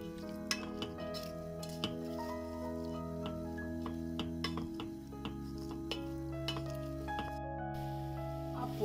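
A spoon stirs parsnip and other vegetables in a pot for soup, making scattered close clinks and scrapes against the metal with a faint sizzle, over soft sustained background music.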